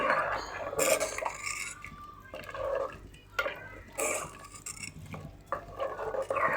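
Scraping and clinking of a spoon stirring thick anchovy curry with roasted ground coconut in a metal pot, in irregular bursts with brief pauses between strokes.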